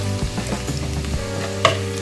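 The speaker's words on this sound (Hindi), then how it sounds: "ऑयल थोड़ा सा गर्म होता है फिर हम इसमें अपना लहसुन डालेंगे। थोड़ा सा बस 1-2 मिनट इसको भूनेंगे" Garlic goes into warm cooking oil and sizzles close by, with stirring clicks and a scrape against the pan over about two seconds and no talking.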